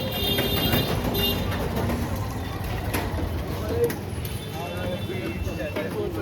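A metro train ride from the inside: a steady, close rumble of the carriage in motion with a faint hum and soft background voices throughout.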